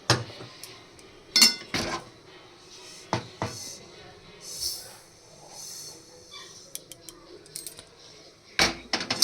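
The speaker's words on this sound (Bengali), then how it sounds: "এবার আমি সুজিটাকে নামিয়ে নিচ্ছি, একটা পাত্রের মধ্যে ঢেলে নিচ্ছি" Roasted semolina is tipped from a pan into a bowl, heard as a series of sharp metallic clinks and scrapes of cookware and utensils, separated by quieter stretches of soft rustle.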